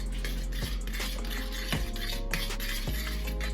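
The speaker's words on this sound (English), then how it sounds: "because this is just a stainless steel pot, I can use a spoon to stir" A metal spoon stirs leftover ground beef in a stainless steel pot, scraping and clinking against the sides in a few distinct strokes over a steady background hum.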